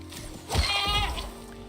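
A single drawn-out goat bleat from the survival game Icarus, close and wavering for about half a second, over quiet game ambience.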